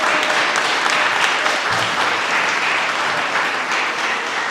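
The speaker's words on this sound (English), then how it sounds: "receive this welcome applause" An audience at a community meeting with Reading's mayor gives sustained, loud applause, a thick unbroken patter of many hands clapping at once.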